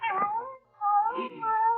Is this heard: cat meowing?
yes